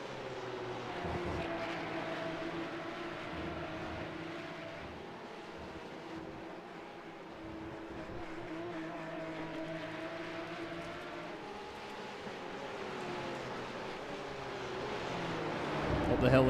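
Porsche race cars lapping Brands Hatch in a sim racing game, engines droning steadily with shifting pitch beneath continuous commentary that swells slightly near the end.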